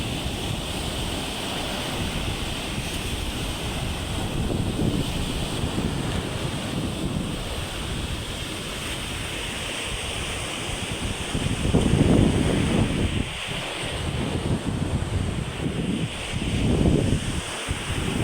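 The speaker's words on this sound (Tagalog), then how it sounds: "Ang lalaki ng alon." Big ocean surf roars steadily at the shore while wind buffets the microphone, the waves swelling louder around the middle and again near the end. No one speaks.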